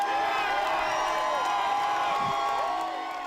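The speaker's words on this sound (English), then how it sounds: "Luther tore up the citation to the cheer of the crowd." A crowd cheers and whoops at a protest rally outside a reopened hair salon in Dallas, with a dense, sustained roar from many people at a distance.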